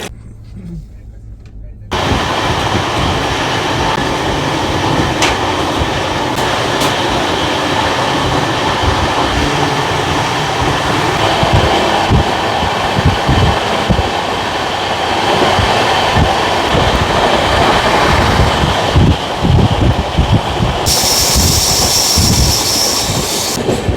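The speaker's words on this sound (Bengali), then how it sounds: "আমাদের ট্রেন এখন ছেড়ে দিল মালদা টাউন রেলওয়ে স্টেশনে" A train pulls out of Malda Town railway station, its steady rumble and wheel noise filling the space, with rhythmic clacking and a brief high squeal near the end.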